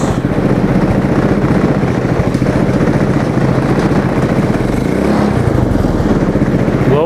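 A track sled's engine runs steadily in reverse gear, a loud, continuous mid-pitched motor drone close by with no talking.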